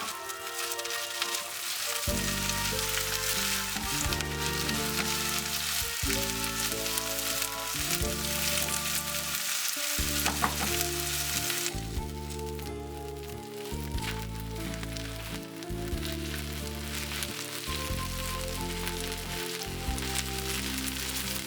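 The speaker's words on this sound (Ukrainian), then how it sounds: "будемо смажити цибулю" Constant crackling sizzle of onion frying in hot oil, loud and steady throughout, with background music playing underneath.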